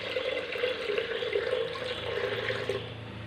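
Water, about three-quarters of a litre, pours steadily into a pot of dal for Malabar sambar, making a continuous, moderately quiet rushing sound with no talk.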